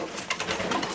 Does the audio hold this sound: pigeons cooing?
yes